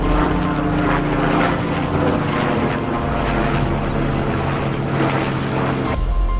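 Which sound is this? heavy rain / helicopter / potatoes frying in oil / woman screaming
helicopter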